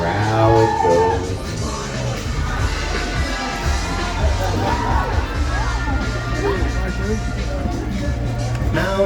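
An audience at a dolphin show in Florida cheers, whoops and shouts with children's voices mixed in, a continuous loud crowd roar with an announcer's voice running over it.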